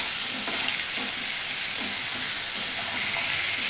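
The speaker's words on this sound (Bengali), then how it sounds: "ভালো করে নাড়াচ্ছি।" Raw mango pieces tossed with salt and turmeric are stirred in a hot pan for a chutney, giving a steady close sizzle and hiss with soft spoon scrapes throughout.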